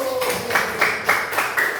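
A primary-school class doing a quick rhythmic 'tepuk semangat' clapping chant during a civics lesson: several evenly spaced bursts of children's claps, close and moderately loud, with faint voices between.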